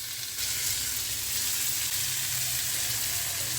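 Bitter gourd with onion and tomato frying in a pan on high flame, a steady close sizzle that holds throughout without pause.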